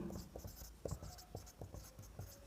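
Faint pen strokes scratching on paper while writing out a Class 10 maths answer, in short irregular bursts with quiet pauses between them.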